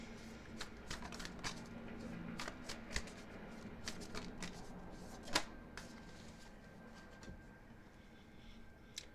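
Tarot cards shuffled and drawn, close and quiet, with a steady patter of soft card flicks and slaps and one sharper tap near the end.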